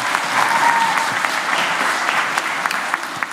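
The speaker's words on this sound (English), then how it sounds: "Give a round of applause." Audience at a live show applauds steadily, a dense burst of clapping lasting a few seconds and fairly loud, with some scattered louder claps standing out.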